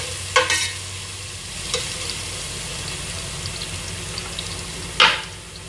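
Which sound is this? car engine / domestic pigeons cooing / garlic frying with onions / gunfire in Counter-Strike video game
garlic frying with onions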